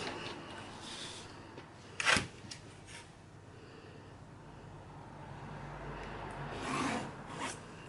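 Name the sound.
marking a fabric strap down its centre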